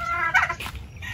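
A large penned turkey gobbles once nearby, a quick warbling burst of rattling calls lasting about a second.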